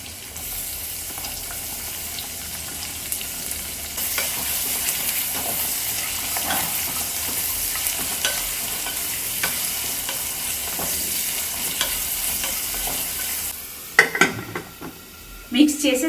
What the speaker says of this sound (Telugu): ఇప్పుడు 3 మీడియం సైజు ఆనియన్స్ని చిన్న చిన్న ముక్కలుగా కట్ చేసుకున్నాను. కట్ చేసుకుని ఇప్పుడు వేసుకుంటున్నానండి.